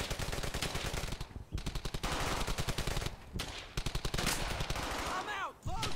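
Sustained automatic gunfire from a World War II shooter, Brothers in Arms: Hell's Highway, with dense rapid bursts of machine-gun fire and rifle shots filling the whole stretch, loud and close with only a few brief pauses.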